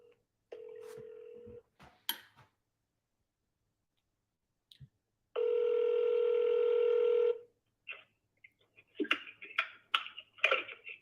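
A telephone dials out to place a call to a property seller during a live sales-calling session: a steady tone, a few clicks, then a longer electronic tone with no talk over it, followed by faint scattered chatter.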